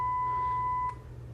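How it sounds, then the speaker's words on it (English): A smart watch loudspeaker sounds a steady single test tone that holds for most of a second before cutting off, leaving a faint low hum. "you can check the loudspeaker, as you can hear"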